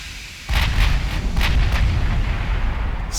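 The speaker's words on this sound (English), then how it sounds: "I just love the 12 guns firing forward." Twelve naval guns of a warship fire forward in the naval combat game Ultimate Admiral Dreadnoughts, a heavy rolling barrage of booming blasts that begins abruptly and keeps rumbling loudly with repeated sharp reports over it.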